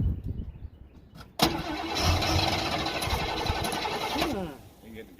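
A 1972 Monte Carlo Z03 Custom engine cranks and fires after sitting unused for 15 years, catching with a sudden loud roar and running rough for about three seconds before dropping off, with voices faintly around it.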